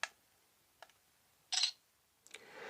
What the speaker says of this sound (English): the sound of the shutter noise